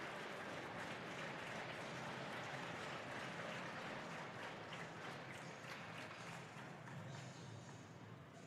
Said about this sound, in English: So a little bit of a round of applause from the Cougars faithful here at the Maryville University Hockey Center.